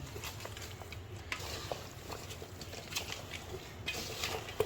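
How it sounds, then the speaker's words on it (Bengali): Beef being mixed by hand with oil and spices gives soft, wet squelching and stirring with light clinks of a pot or bowl, quiet and close, with no voices. "তেল দেওয়া হয়েছে এখন এটা মাখা হবে"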